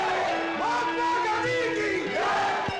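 A huge crowd at a mass rally at Azad Maidan, Bombay, cheers and chants for Gandhi on his return home, a dense roar of many voices with rising and falling shouts that fill the whole stretch without a break.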